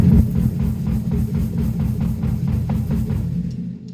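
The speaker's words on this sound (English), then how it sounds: "so that's your bass drum" Bass drum on a drum kit in a home drum room, struck in a steady fast stream of deep, booming low thumps that fill the whole stretch at close range, with no talking.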